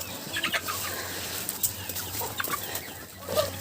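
Chickens cluck softly at a moderate distance in a vegetable garden, a mother hen with chicks, scattered calls over a steady background hum.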